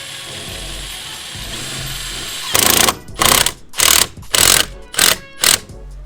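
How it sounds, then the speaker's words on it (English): An impact wrench tightening a bolt on a fence post, loud close hammering bursts repeated about six times in quick succession after a quieter hum. "I'm now going to set my impact wrench to tighten."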